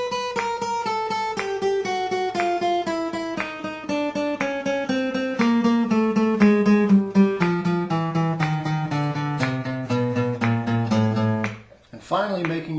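Guitar plucked in a steady, even pattern of four notes per beat at 60 beats per minute, a fast regular stream of picked notes with a slowly descending melodic line, ending in a brief pause and a faint noise.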